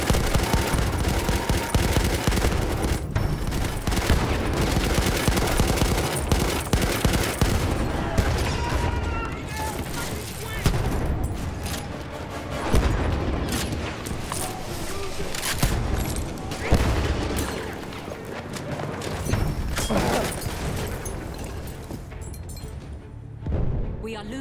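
Sustained battlefield gunfire in Battlefield 1, overlapping machine-gun bursts and rifle shots with occasional explosions, loud and continuous throughout, with a voice talking now and then over the din.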